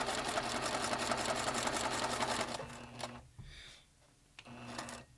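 Sewing machine running a seam through muslin fabric, a fast steady close-up whirring of needle strokes that stops after about three seconds and then resumes briefly near the end.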